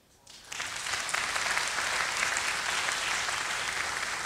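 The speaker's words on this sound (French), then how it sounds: "Vous pouvez les applaudir." Audience at a live drawing battle at a comics festival breaks into sustained applause after a brief quiet start, steady and fairly loud throughout.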